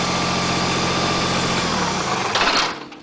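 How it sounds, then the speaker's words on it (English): A backhoe's engine runs steadily and loudly while the boom is raised and the machine tilts back, a droning idle that surges briefly near the end before dropping off. "Raising the boom, the backhoe tilts back"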